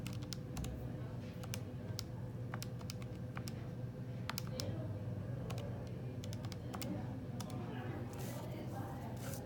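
Calculator keys being typed on while working a law of cosines precalculus problem, giving a quiet, irregular series of light close clicks over faint background noise.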